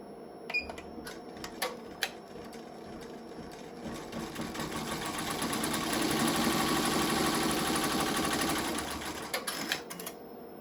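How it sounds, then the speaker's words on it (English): An embroidery machine tacks down a pot holder, running as a steady, fairly loud mechanical whirr of rapid stitching that swells through the middle, with a few sharp clicks at the start and end. "you're going back to the machine and it's going to tack this in place"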